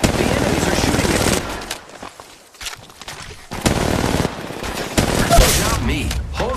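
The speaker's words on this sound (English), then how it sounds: "The enemies are shooting at me." Rapid bursts of automatic gunfire in the mobile battle royale game Apex Legends Mobile, loud volleys broken by short pauses, with a voice speaking over the shooting.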